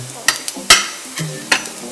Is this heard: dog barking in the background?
no